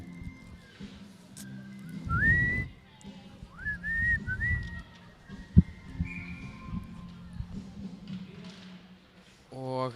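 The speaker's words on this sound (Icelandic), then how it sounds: "Dómarinn flautar." A referee's whistle at a women's ice hockey playoff game between Fjölnir and SA sounds in a few short rising blasts, sliding and wavering, amid arena murmur with a commentator talking, plus a sharp knock midway.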